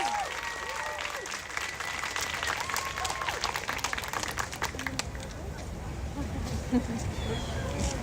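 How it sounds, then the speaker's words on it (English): An outdoor crowd at a pro-Palestine march in Washington, DC applauds its speakers, a steady wash of clapping with cheering voices and chatter mixed through it, fading slightly toward the end. "Can we get a round of applause for our speakers?"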